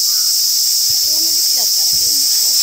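Cicadas drone loudly and continuously in a green summer park at Kajo Park, the Yamagata Castle grounds, at dusk, a dense high buzz filling the air while faint voices and movement sit beneath it.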